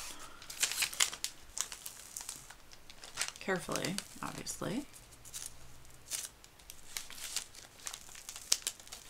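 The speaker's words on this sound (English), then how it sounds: "I just pull the paper up" Parchment paper crinkles and rustles as it is pulled up in a crafting kit-up, close and soft, with a few sharper crackling bursts while a person talks throughout.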